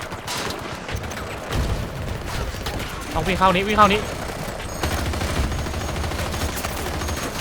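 An M16A3 rifle fires in Battlefield 2042, with bursts and scattered shots mixed into a busy battle, close and fairly loud, while someone talks over most of it.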